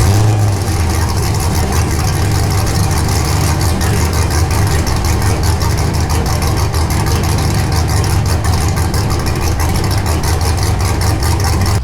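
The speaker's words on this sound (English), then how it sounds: "I figured since I'm changing the exhaust, I should get a cold start on both." A Chevrolet Camaro fitted with a Borla Switchfire exhaust on a cold start, a loud, steady engine drone and exhaust rumble that holds constant throughout with no pauses.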